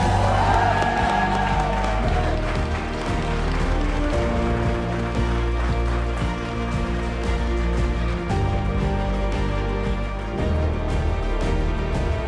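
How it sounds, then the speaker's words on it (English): Wedding guests at Charlton Hall cheering and whooping after the couple's kiss, a sustained crowd roar with scattered clapping and shouts over background music, loud and continuous. "everyone please get ready to cheer"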